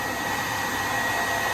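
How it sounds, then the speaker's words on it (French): A hair dryer runs steadily at close range on a home solar-battery power setup, a loud continuous blowing whir with a fixed tonal hum and no talking. "j'ai branché le sèche-cheveux"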